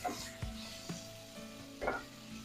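Ginger garlic paste and turmeric being stirred in a pan with a beetroot curry base, a steady low sizzle broken by a few spoon scrapes and knocks against the pan, alone and close.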